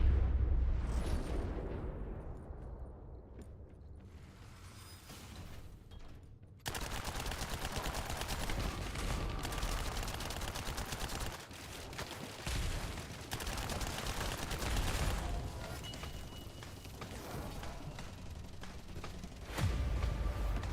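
Gunfire in The First Descendant shooter game, with dense rapid automatic bursts and booming impacts running almost without pause, briefly cutting out early on before the barrage resumes and rattles on steadily.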